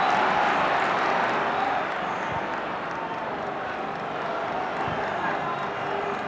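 A stadium crowd at the Chelsea v Liverpool Carabao Cup Final football match makes a broad, continuous roar of applause and noise that eases slightly partway through, with a commentator's voice carrying over it.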